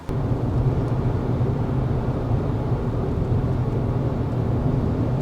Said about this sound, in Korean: 바닥 소음, 바람 소리 뭐 요런 걸로 62dB 정도 나오는 거. 타이어 구르는데 나오는 소음이라든가.